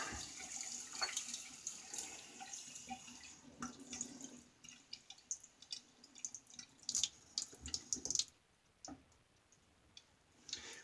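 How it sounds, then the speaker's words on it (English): Water splashes and drips at a bathroom sink while the face is wetted before a shave with a Gem Junior safety razor, soft irregular taps and trickles close by with brief quiet gaps, no talking. "Let's wet the face and get some lather going."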